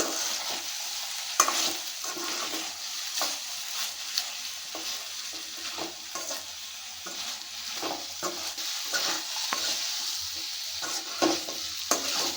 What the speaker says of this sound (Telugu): వంకాయలు అయితే ఫ్రై అయ్యాయండి